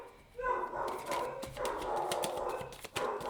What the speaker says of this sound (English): sorry, there's a dog outside